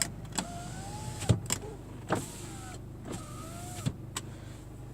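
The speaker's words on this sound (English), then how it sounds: "All the windows work." Electric windows of a Nissan Qashqai 2.0 dCi whir up and down in turn inside the car, each motor run ending in a sharp clunk as the glass stops, repeated several times.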